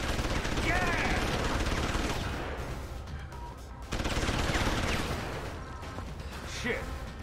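Rapid bursts of automatic gunfire rattle through a shooter video game, loud and sustained with a brief break before resuming, while voices call out over the shooting.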